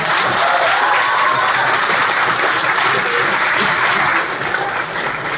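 Dense, steady applause from an audience at a students' toppers' meet fills the whole stretch, continuous and fairly close, easing off slightly near the end with no talking.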